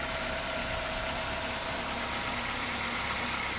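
A steady, low idle from the 4-cylinder engine of a 2010 Toyota Yaris with about 140,000 miles, an even hum and a constant broadband rumble, no speech.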